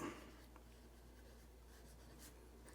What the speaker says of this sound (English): Let's take a look at how they write.